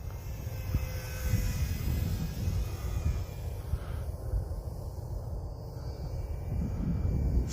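An Eachine Mini BF109 400mm RC warbird cruising at half throttle, its small electric motor giving a steady, continuous drone that holds at an even level throughout with no voices.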